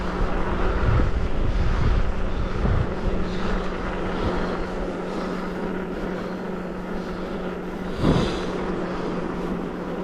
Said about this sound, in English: Wind's really getting up now.